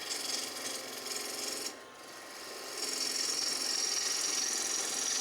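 Part of a wood lathe being cranked down and tightened, giving a continuous grinding, ratcheting rasp that dips briefly and then returns louder and steadier, close by.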